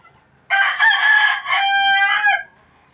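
A Boston Roundhead rooster crows once, close and loud, a single strained two-second call with a brief dip in the middle, in a quiet chicken pen.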